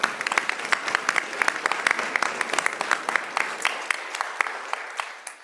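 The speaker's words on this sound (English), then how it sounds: "Everybody give them a round of applause again." Audience at a school board of education meeting claps steadily, a dense run of sharp hand claps from a room full of people that thins and fades toward the end.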